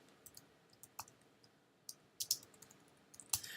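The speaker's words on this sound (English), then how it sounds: "You can just double click on the text" Sharp clicks from a computer mouse while working on a menu in software, several faint taps spread unevenly with a few closer doubled clicks, close by in a quiet room.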